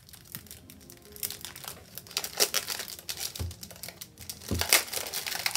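Plastic packaging around Hobonichi paper books crinkles and crackles as it is unwrapped, a close, irregular run of rustling crunches and tearing bursts with no talk.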